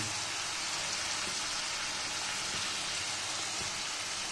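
Chopped tomatoes fry in a small amount of oil in a pan for an egg curry, giving a steady, close, even sizzle throughout with no talking.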